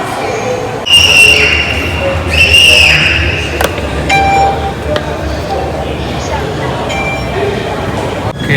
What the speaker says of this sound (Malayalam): മെട്രോ വന്നു നമുക്കിനി കയറാം